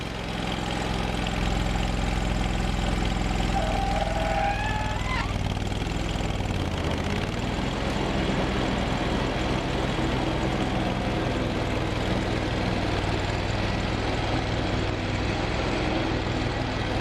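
A Steiner tractor engine runs steadily at idle, loud and close, as a continuous low drone with a brief squeal near the start.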